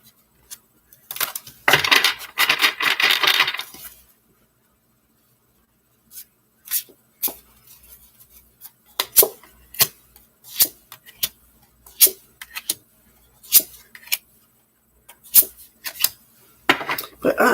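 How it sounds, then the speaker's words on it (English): A stiff deck of playing cards that is hard to shuffle is handled up close: a two-second riffling burst, then quiet, followed by scattered sharp taps, flicks and clicks of cards being squared and cut, with no talking. "The problem with this deck is they're pretty hard to shuffle."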